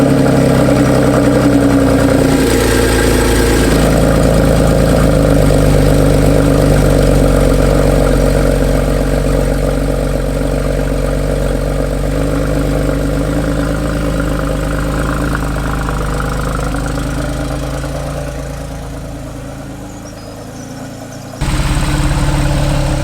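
A Porsche 997.2 Carrera 4S Cabriolet engine runs steadily with a loud low rumble, holding near idle with slight swells and a dip before a sharp jump in level near the end.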